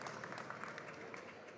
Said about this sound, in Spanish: para quien yo pido un fuerte aplauso